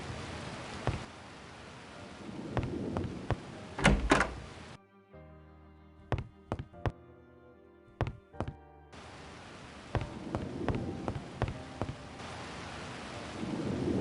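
Heavy rain with deep rolling thunder in a stormy scene from an Agatha Christie video game, the downpour steady throughout and several sharp thunderclaps rising out of it, broken mid-way by a quieter stretch of tonal music with clicks.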